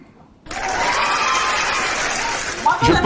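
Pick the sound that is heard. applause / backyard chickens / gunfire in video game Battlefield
applause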